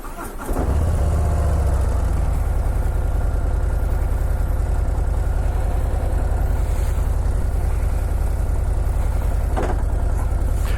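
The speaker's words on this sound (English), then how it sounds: "Clunk! Harley transmission." Harley-Davidson Road Glide CVO ST motorcycle engine running steadily up close, with a heavy low rumble throughout and a faint mechanical clunk as the transmission drops into first gear.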